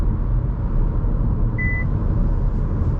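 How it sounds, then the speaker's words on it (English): An MG4 EV's driving-assistant warning gives one short, clear electronic beep as the car changes lanes, heard over a steady low road and cabin rumble. "It beeped first"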